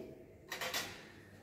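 Brief clinks of glass test tubes being handled and mixed after blood drops are added in a lab, a few close, light knocks over a quiet background.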